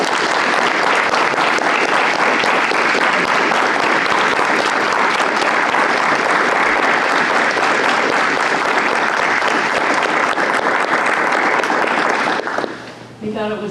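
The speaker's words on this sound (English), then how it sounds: "let's show them our support and appreciation with a round of applause" Audience at a school district board meeting applauding school bus drivers, a sustained loud round of many hands clapping that stops abruptly near the end.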